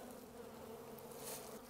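A strong honey bee colony buzzes during a hive inspection, a continuous dense drone of many wings, even and close with no pauses.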